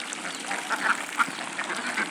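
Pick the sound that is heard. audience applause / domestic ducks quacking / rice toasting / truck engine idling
domestic ducks quacking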